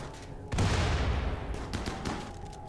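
Gunfire and dynamite blasts in the video game RimWorld, from an assault pistol and chain shotgun, sounding as a sudden rumbling burst of shots and explosions that trails off with a few later hits.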